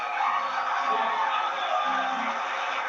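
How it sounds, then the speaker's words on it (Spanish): An audience at a concert at Universidad de Chapingo gives sustained applause and cheering, a dense, even wash of crowd noise with a few whoops, steady for the whole stretch. "Otro aplauso para todos esos hermanos indígenas de Chiapas."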